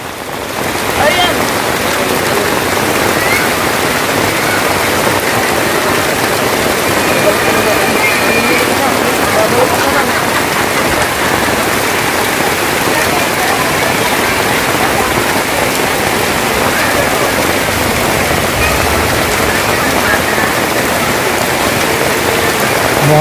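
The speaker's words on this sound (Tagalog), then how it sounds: "Mukhang matagal to, ulan na to." Steady, dense downpour of heavy rain hissing continuously on surfaces, loud and close, with no break throughout.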